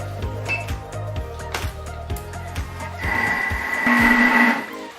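Diet pizza dough of flour, oil and salt being mixed in a machine, rhythmic mechanical clatter giving way to a louder whirring hum with a rising tone, close.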